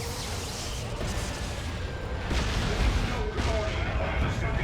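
Basilisk artillery in the real-time strategy game Warhammer 40,000: Dawn of War 2 thumps within a dense battle soundscape, with repeated booms and crackling gunfire over a constant roar of combat noise.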